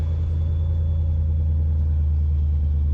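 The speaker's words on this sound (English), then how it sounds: "It's starting to get a little rougher as the idle comes down." A car engine idles roughly with a suspected cylinder 4 misfire, a steady low rumble heard close and continuous with no voices.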